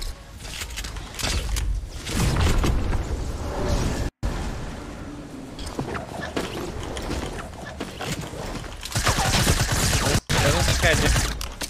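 Sniper gunfire in Fortnite amid dense game action, with sharp shots and crackling bursts recurring over a continuous loud din and a couple of brief dropouts.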